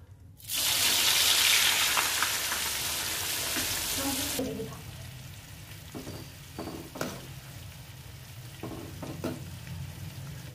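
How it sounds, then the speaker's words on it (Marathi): Onion frying in a pan for Maharashtrian chivda, a loud hissing sizzle that starts abruptly and stays dense, then drops to a softer crackle with a few stirring clinks near the end. "आता आपण कांदा तळून घेऊया।"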